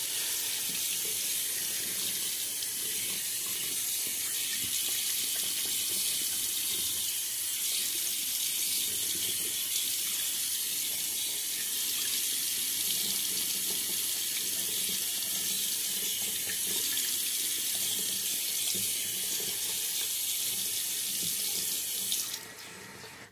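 A bathroom tap runs steadily with a continuous hiss of water into a sink, used to re-wet the face during a wet shave, lasting about twenty seconds before cutting off abruptly at the end.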